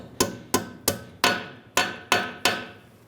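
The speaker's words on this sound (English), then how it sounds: "I'm going to use my little hammer and tap it in." A small hammer taps a metal spring clip on a 2010-2013 Kia Soul rear brake hose seven times at a steady, deliberate pace, each strike sharp and close with a short ringing decay.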